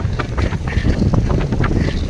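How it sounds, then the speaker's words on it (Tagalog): Strong wind at sea off Capaluhan, buffeting the microphone as a loud, steady roaring rumble with gusty swells and no break over the short stretch. "Sobrang lakas ng hangin."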